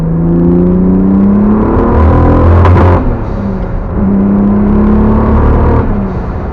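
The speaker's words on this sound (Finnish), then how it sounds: "kone ei vedä normaalisti 5 tonnin jälkeen ahdoilla" Turbocharged BMW M50/M52 straight-six revs up loudly and close, rising and holding a strained tone as it stops pulling normally above 5000 rpm, then drops and climbs again in a second rev.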